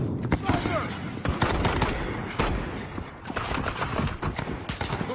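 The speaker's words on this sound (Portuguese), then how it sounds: "O sniper atirando, velho." Sniper rifle shots crack in a Brazilian online shooter game, a dense volley of sharp reports and impacts in quick succession over busy battle noise.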